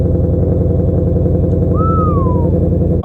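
The engine of a 2020 Shelby GT500 drag car runs loud and close, with a dense, throbbing low rumble held steady throughout and no voices.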